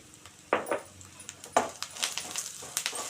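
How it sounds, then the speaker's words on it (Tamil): A spoon stirs spices through an aval (flattened rice) mixture in a pan, producing scattered scraping clinks and taps of metal on metal at an irregular pace, fairly close and moderately quiet. "நல்லா கிளறி விட்டுருவோம்"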